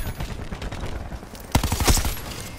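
Rapid bursts of gunfire from an MX9 in a Black Ops 4 hardcore match, a quieter stuttering stream of shots followed by a louder, closer volley near the end.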